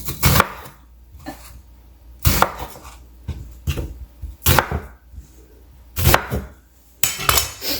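An onion diced with a knife on a chopping board, sharp, loud cutting strokes in irregular bursts with short quiet gaps between them, close up.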